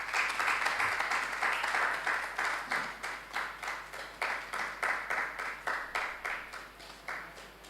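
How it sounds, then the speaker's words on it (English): Audience at a university business quiz competition claps to welcome contestants, the applause fairly faint and thinning into scattered, rhythmic clapping that pulses unevenly toward the end. "With a round of applause, please join me as I welcome contestants from the two schools"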